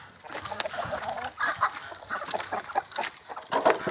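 Backyard chickens cluck softly at a distance in a busy coop, scattered short calls overlapping amid faint farmyard noise.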